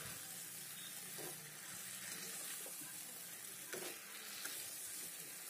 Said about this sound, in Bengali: ভালো করে মাছের মুড়ো দিয়ে আর এই চাল মশলা দিয়ে ভালো করে আমি এটাকে কষিয়ে নিচ্ছি